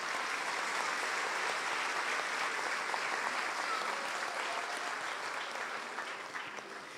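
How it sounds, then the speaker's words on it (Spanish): Congregation applauding in a Catholic church after a Spanish-language Mass, a dense, steady wash of many hands clapping that holds loud for several seconds and starts to thin near the end. "Para ellos un fuerte aplauso de agradecimiento."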